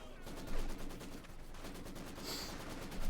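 Rapid machine gun fire from a Maxim gun in the Company of Heroes 2 battle game, a dense rattling burst over distant gunfire and battle noise, steady throughout.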